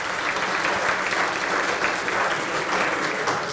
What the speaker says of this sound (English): Round of applause for Laura Filicetta